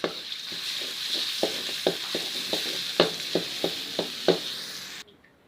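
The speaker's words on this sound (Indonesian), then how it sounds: "Setelah panas, kita masukkan bumbu yang kita ulek tadi." A pounded spice paste hits hot oil for tofu bacem and sizzles loudly and steadily, with sharp stirring scrapes at irregular intervals, until the sound cuts off abruptly near the end.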